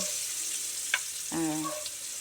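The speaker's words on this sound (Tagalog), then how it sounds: "Lagay na agad ang sibuyas para hindi masunog ang bawang" Onion and garlic sauté in a hot pan for a green alugbati and egg dish, a steady close sizzle with a brief utensil clink and a short vocal sound partway through.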